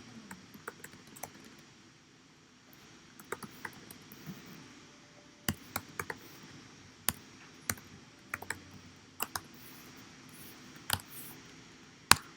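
Someone types on a computer keyboard while writing Java code, sparse clicks and short bursts of keystrokes over a low room hum, close and fairly quiet, with no talking.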